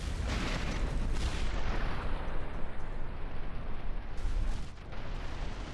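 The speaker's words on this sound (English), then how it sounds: "The Scorpion plasma turrets from the Magnus Gladius shoots" Scorpion plasma turrets firing during a From the Depths battleship tournament fight: a dense, continuous roar of booming blasts and rumbling impacts, loud and unbroken throughout, with no talking.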